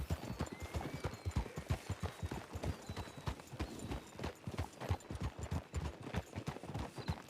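Horse hooves clip-clop steadily in a video game, a brisk, even rhythm of close hoofbeats running throughout, with an occasional faint whinny in the background.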